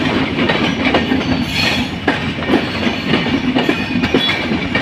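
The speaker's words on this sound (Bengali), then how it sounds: "গাইস দেখুন কত সুন্দরভাবে ট্রেন যাচ্ছে" A long night train running through a station on a route out of Khulna, a loud continuous rumble of wagons with rhythmic wheel clatter and periodic clacks over the rail joints, close by and steady throughout.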